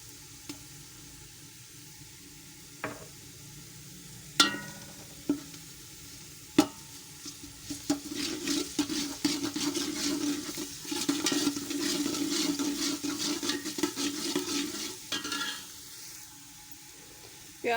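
Onions and garlic fry in a pan for an Eid-style payee dish, with a few sharp clinks of a spoon stirring followed by a steady, close sizzle that fades near the end.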